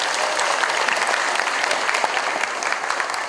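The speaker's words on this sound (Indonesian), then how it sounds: "Kita beri tepuk tangan untuk Mas Anda." An audience at a public reading-movement event in Jakarta claps in steady, dense applause, loud and sustained for the whole stretch with no talk over it.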